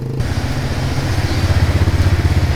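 A motorbike engine idles up close before a ride, its low, steady throb pulsing in a regular rhythm, alone without talk.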